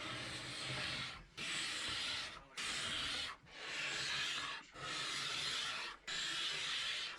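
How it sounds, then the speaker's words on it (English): Long, raspy scraping strokes work across a 1910s Victorian cherry wood dresser, six steady passes with brief pauses between, a close, even hiss of a blade shaving the old finish. "now what I'm going to do is just scrape the whole thing down."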